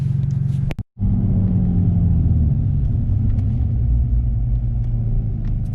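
A warmed-up Nissan 350z with a straight-pipe exhaust idles steadily and loudly up close, a deep continuous rumble broken by a brief dropout near the start, with no talking.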